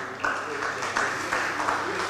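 Round of applause at a constituency branch meeting, a room of hands clapping steadily in the background with a faint voice or hum running underneath throughout.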